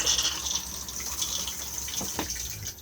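A cassette toilet flushes inside an Elddis 2021 Majestic 120 caravan, a steady hiss of running water with a few faint clicks near the end.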